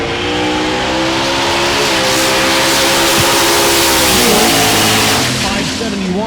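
A Rowdy Radial class drag racing car running a stick shift accelerates hard down an eighth-mile strip at a raceway, a loud, sustained engine roar climbing in pitch with a shift partway through, under crowd and announcer noise.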